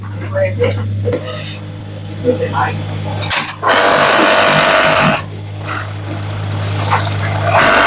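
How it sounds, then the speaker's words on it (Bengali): An overlock sewing machine stitches the end of a pant waistband, giving a steady buzzing whir in two bursts of a few seconds each, heard under a person talking. "এই মাথাটা ওভারলক করে নিতে হবে"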